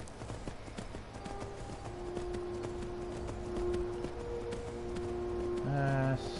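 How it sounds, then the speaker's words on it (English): Horse hooves clip-clop steadily in the Skyrim video game, a rapid even gallop-like rhythm over game ambience, with a brief tonal horse call rising at the end. "Skyrim and its horses."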